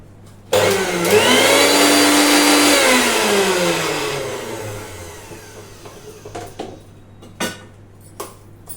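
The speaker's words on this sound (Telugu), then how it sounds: "ఇప్పుడు మిక్సీలో వేసి గ్రైండ్ చేసుకోవాలి." A kitchen mixer grinder grinds soaked lentils for festival dishes. A loud motor whir starts abruptly, holds for a few seconds, then winds down, followed by light clicks and clatter.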